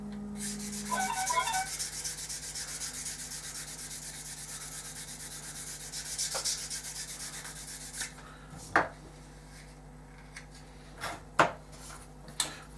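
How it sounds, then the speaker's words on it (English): A sponge sander rubs across a model aircraft wing, steady close hissing strokes for several seconds, then quieter handling with a few sharp knocks and taps toward the end; no one speaks. "I'm just going to find one of my"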